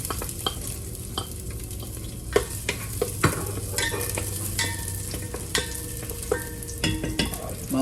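Garlic and white onion sautéing in a pan for dinuguan, a continuous sizzle broken by frequent spatula scrapes and clacks against the pan, fairly close and loud with no talking.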